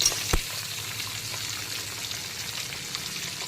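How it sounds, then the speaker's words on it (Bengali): Pomfret fish frying in a pan of oil gives a steady, close sizzle and crackle throughout, with one sharp pop near the start and no talk. "যতক্ষণে মাছগুলো ভাজা ভাজা হচ্ছে"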